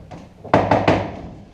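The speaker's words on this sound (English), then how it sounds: "Whence is that knocking?" Three quick, heavy knocks strike a wooden door close by in an even rhythm, preceded by a couple of faint, softer taps.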